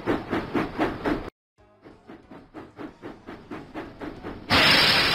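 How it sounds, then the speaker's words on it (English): James the steam engine from a Thomas & Friends video game puffs in rhythmic, regular chuffs that stop briefly, then pick up again as he rolls into the station, ending in a loud burst of hissing steam. "James puffed proudly into Knapford Station"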